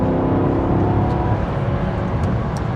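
Maserati GranTurismo MC Sport Line engine and exhaust, a steady loud rumbling drone with a slight swell, heard close and alone without voices.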